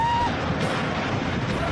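Loud wind buffeting the microphone, a constant rushing roar with a faint whistling tone at the start.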